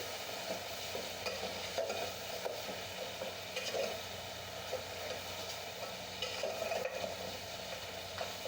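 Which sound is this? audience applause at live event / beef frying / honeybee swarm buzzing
beef frying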